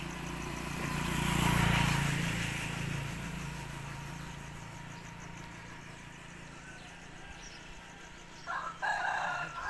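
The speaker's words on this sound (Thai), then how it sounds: "เสียงไก่ขันเนาะ" A rooster crows once in the distance over quiet morning ambience, followed by faint background noises and brief clatter near the end.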